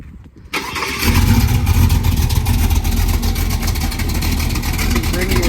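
A car starting up during a vehicle inspection: a brief crank, then the engine catches and settles into a loud, steady idle close by.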